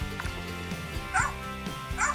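Small virtual puppy in the Nintendogs + Cats video game giving a few short, high yips and barks at close range, with a pause between bursts and faint game sounds underneath.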